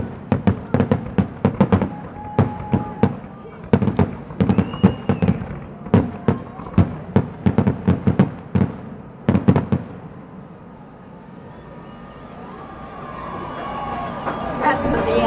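A holiday flotilla fireworks finale crackles with rapid, dense volleys of loud bangs that build to a near-continuous barrage, then die away into the crowd's cheering and distant chatter.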